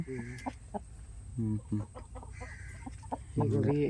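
Roosters and chickens cluck in short bursts nearby, with a few louder clucking calls toward the end over quiet background noise.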